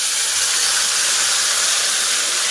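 Finely ground spice paste sizzles loudly in hot oil for a red masala drumstick curry, a dense continuous hiss close up and without talk.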